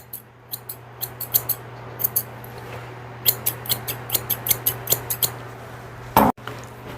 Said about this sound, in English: A lot of puppies, they don't like the scissoring around their ears.